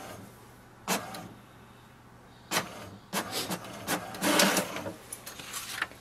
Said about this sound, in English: Wait for the printer to print out the sheet.